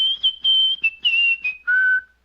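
A woman whistles a short tune alone, clear and close, in a string of sustained notes broken by brief gaps, the melody stepping downward to end on a longer, lower note.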